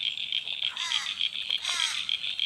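Frogs at Cabramatta Creek keep up a dense, steady high chorus of pulsing calls, with a few louder trilling croaks rising over the mass, outdoors and continuous without talk.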